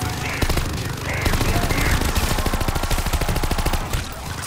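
Rapid automatic gunfire from Call of Duty Vanguard zombies mode, a dense, loud stream of shots with steady rhythm lasting several seconds, with faint voices underneath.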